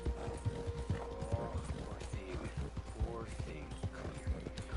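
Horse hoofbeats at a gallop in the video game Red Dead Redemption 2, a rapid, steady clip-clop rhythm of hooves on ground with faint creaking tack and ambient game sounds, moderately quiet.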